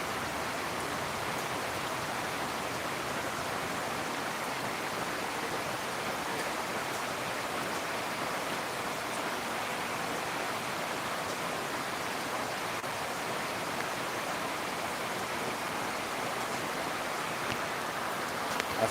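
Heavy rain pouring down in Guwahati, a steady dense hiss that holds evenly throughout with no voices.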